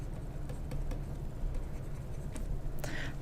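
Pen or pencil scratches on paper as fractions are written out by hand, soft close strokes with small taps between them over a quiet room hum.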